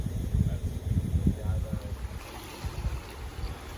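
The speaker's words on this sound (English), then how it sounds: "It's 7:30 right now, and the wind is resilient." Gusty wind at a lake campsite on Booth Lake in Algonquin Park in early September, buffeting the microphone with a constant low roar that swells and eases throughout.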